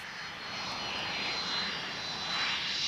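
A propeller aeroplane drones steadily overhead with a broad, even engine roar that swells slightly, fairly loud and continuous with no voices.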